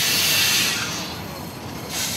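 A moving freight train in Mexico rumbles past with a loud, steady hiss and rattle of wheels on rails, the noise swelling, easing slightly, then rising again, with no voices.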